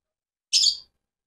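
A single short, bright chirp from a pet bird in a bird shop, clear and fairly close, with silence before and after.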